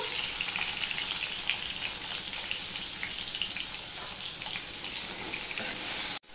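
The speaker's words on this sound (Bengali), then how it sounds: "এবার আলুগুলো দিয়ে নুন হলুদ দিয়ে আমি কষাতে থাকবো" Small-cut potatoes with salt and turmeric sizzle steadily in hot oil in a pan, a close, even frying hiss that runs without pause and breaks off abruptly at the very end.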